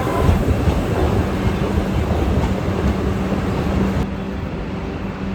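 A train rumbles steadily along the rails approaching Gandhinagar railway station, a loud continuous roar with faint rhythmic clatter, easing slightly toward the end.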